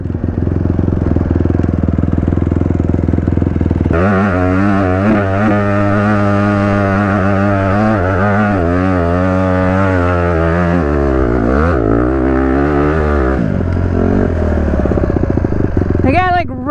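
An off-road vehicle engine strains uphill at redline, a loud, sustained high-revving roar with pitch climbing and wavering as the load shifts, dipping briefly near the end before surging again.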